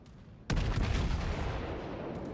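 A heavy naval gun salvo from a warship in World of Warships booms out suddenly and loudly, followed by a long rumbling roar that slowly fades across the rest of the moment.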